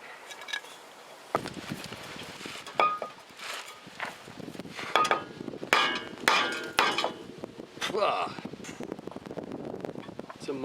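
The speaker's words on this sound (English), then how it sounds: "I need to tap this rotor." A hammer taps at a dusty brake rotor on an Acura Integra with a bad front wheel bearing, giving several sharp metallic knocks at irregular intervals with shuffling and clinks in between.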